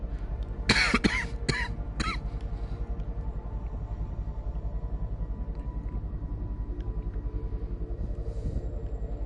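Several sharp coughs in a quick cluster near the start, close and loud, then silence over a steady low rhythmic rumble in the background.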